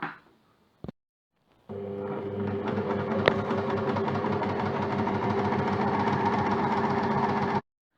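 An overlock serger runs an overcast seam, starting after a brief click and then holding a loud, steady mechanical whir with a fast rhythmic chatter for about six seconds before stopping abruptly.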